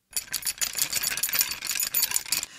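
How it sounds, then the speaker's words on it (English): A bunch of keys jangling and clinking steadily for a couple of seconds, close up, with irregular bright metallic bursts. "And here's the keys that unlock them."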